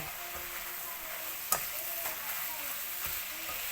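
Fresh chilies and kaffir lime leaves stir-fry in a hot pan with a steady, dense sizzle, punctuated by occasional scrapes and a sharp clink of the spatula.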